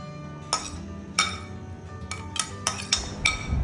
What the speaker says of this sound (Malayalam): ഈ അരിഞ്ഞ് വെച്ച എല്ലാ വെജിറ്റബിൾസും അതിലിട്ട് നന്നായൊന്ന് മിക്സ് ചെയ്തെടുക്കുക